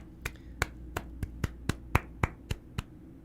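Ten crisp, evenly spaced claps for a giveaway winner ring out one at a time, close and sharp, with no talking.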